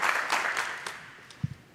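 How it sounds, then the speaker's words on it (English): A conference audience at the ALC '17 environmental justice session gives a short round of applause, a moderate crowd clatter that fades out within about a second, followed by a couple of low thumps. "Let's give her a round of applause"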